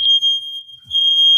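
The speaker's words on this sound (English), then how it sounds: "I got the most sensitive smoke alarm." A highly sensitive household smoke alarm emits a loud, piercing electronic tone, sounding steadily for a long stretch, briefly dipping, then resuming, with no voices over it.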